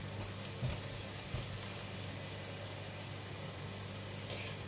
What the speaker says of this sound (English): We're going to fry the garlic until it becomes brown and fragrant